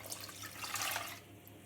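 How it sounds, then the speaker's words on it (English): Cold water running into a pan on a home kitchen stove while making lemon pie filling, a steady close rushing pour that eases off near the end. "pop it in a pan with 280 mils of cold water"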